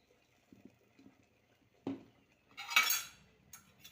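A spoon stirs curry with curry leaves and coconut oil in a pot, giving scattered soft metallic taps and clinks, then a sharper knock and a brief scraping burst, close and quiet with no speech.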